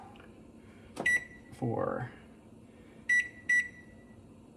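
A kitchen stove's timer gives sharp electronic beeps, one near the start and two more close together later. A brief clattering sound falls between them, with a voice speaking quietly in the room.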